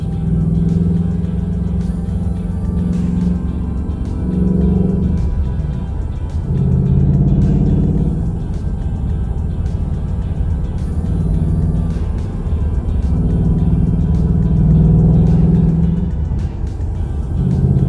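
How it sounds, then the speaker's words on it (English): A Dodge Challenger Scat Pack's exhaust rumbles low and steady from inside the cabin as the car accelerates on the road, the droning pulses swelling and easing with the revs for the whole stretch. "Kind of hear that exhaust."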